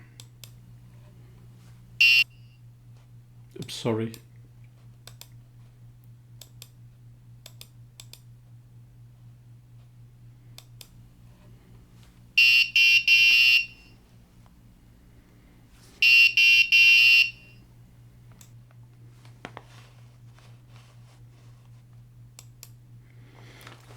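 A buzzer triggered by a motion detection program sounds in two loud, sustained bursts a few seconds apart, with a shorter chirp earlier. A steady electrical hum and scattered clicks run throughout, and a voice speaks briefly.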